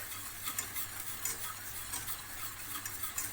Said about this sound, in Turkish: Kaynayıncaya kadar, özleşene kadar karıştırıyoruz.